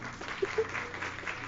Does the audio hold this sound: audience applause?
yes